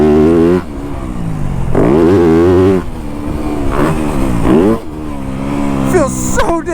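A 2025 Yamaha YZ250F dirt bike engine revs hard and climbs through gears while riding, loud and close with rising and falling pitch, a rider's voice talking over it.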